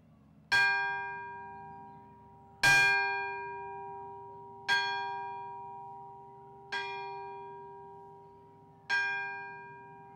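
A church bell in a bell chamber strikes five times at steady two-second intervals, each loud clang ringing on with a long, slowly fading hum.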